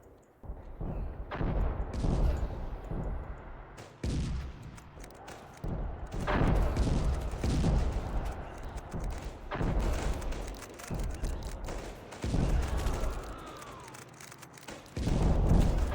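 World War II real-time strategy battle in Panzer Strike, with repeated booming artillery blasts and gunfire cracking at irregular intervals. The heavy thuds are loud and close, with quieter rumbling in the gaps between shots.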